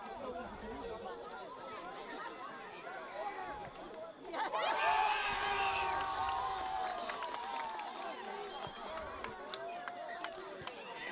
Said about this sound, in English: The crowd is very excited by it.